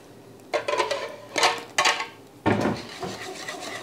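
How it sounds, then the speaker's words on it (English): Pureed zucchini going back into a soup pan, heard as a few bursts of scraping and clanking from a utensil on the pan, followed by a thicker sloshing pour and scraping, with no talk. "Now we're going to add the pureed zucchini back to the pan."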